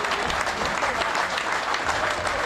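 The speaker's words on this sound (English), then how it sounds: "It's Blackett who's coming off to a good round of applause." A football crowd at South Shields versus Banbury United applauds a substituted player leaving the pitch, a dense, steady wash of clapping from a large stadium audience lasting throughout.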